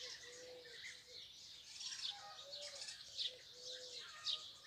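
A turtle dove coos in soft repeated phrases from a nest with young just under a window, while other birds chirp faintly in the background.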